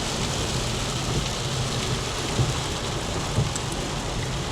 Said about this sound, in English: And now it's pouring out there.